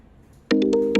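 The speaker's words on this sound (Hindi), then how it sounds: "तभी मनु का फोन बजा।" A mobile phone rings as a sound effect, its electronic ringtone starting abruptly midway through as a series of bright, evenly pulsed tones, loud and alone with no talking.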